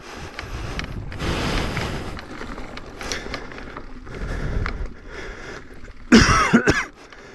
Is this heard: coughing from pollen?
yes